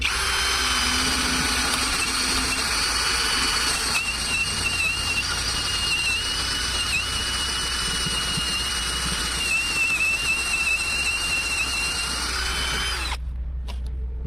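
A cordless 20V impact drill-driver runs steadily and loudly for about thirteen seconds, its motor whine holding a constant pitch before cutting off abruptly near the end.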